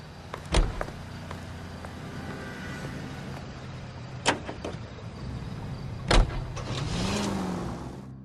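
A car in the video game L.A. Noire moves along under a low, steady engine rumble, broken by a few sharp thuds like door or body knocks, with no talking.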